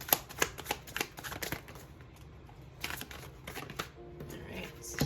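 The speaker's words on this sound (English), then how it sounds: "As you can see, I'm shuffling for tarot." Tarot cards are shuffled by hand in rapid bursts of crisp riffling and slapping, close and fairly loud, with a brief pause partway through.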